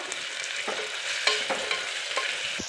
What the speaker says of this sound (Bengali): এবার পেঁয়াজগুলো দিয়ে দিচ্ছি। এটা একটু ভালো করে নেড়ে নেবো।